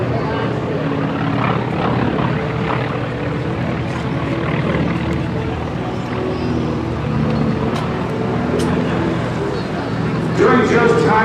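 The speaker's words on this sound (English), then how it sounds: "The sound of that engine is very, very distinctive." A T-28 Trojan airplane with a nine-cylinder radial engine and split exhaust stacks drones steadily at the 2017 Chambers Field Centennial Air Show, a loud continuous rumble with a faint voice talking beneath it.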